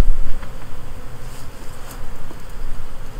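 Honey bees in an open hive during a hive inspection, a close, steady buzzing drone with individual bees swelling louder as they pass near.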